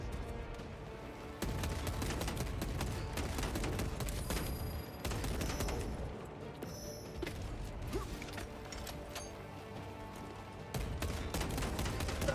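Enemy gunfire in the game Space Marine 2, heavy sustained bursts of shots with mechanical clanks, loud and close, filling most of the stretch with brief lulls.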